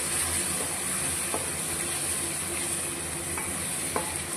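Biryani masala, garam masala and Kashmiri chili powder sauté in a pot for mutton biryani, giving a loud, continuous sizzling hiss with faint scraping stirs underneath.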